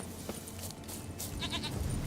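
A goat bleats in the video game Witcher 3, a couple of short nasal cries over a busy game soundscape.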